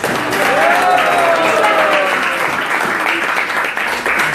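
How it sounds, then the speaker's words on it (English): A crowd gives a big round of applause for Janananda Prabhu at a Sunday gathering after he cooked the feast, steady dense clapping filling the room with a faint voice underneath. "So let's give Janananda Prabhu a big round of applause"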